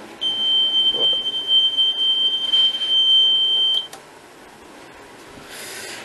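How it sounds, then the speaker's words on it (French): A loud, continuous high-pitched electronic alarm tone from a CONROLVENT relay control box sounds for several seconds, then cuts off abruptly, leaving quiet background hum. "On va entendre biper."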